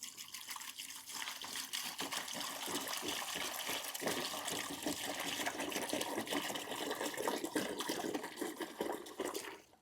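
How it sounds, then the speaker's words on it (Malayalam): Distilled water pouring into the cells of an inverter lead acid battery, a steady trickling, gushing stream that fills the clip at close range with no talking. "ഇനി നമുക്ക് വേണ്ടതെന്ന് പറഞ്ഞാൽ ഡിസ്റ്റിൽഡ് വാട്ടറാണ്. ഇതിൻ്റെ പകുതി നമ്മൾ ഇതിനകത്ത് ഒഴിക്കുക."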